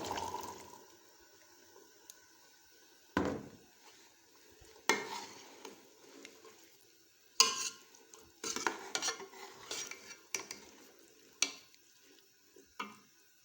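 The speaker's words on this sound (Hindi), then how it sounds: "अब मैं इसमें ये छोले डालूँगी।" Chickpeas are tipped into fried spices in a pan and stirred. Intermittent scraping and clattering strokes come with a soft sizzle between bursts, close and unaccompanied by speech.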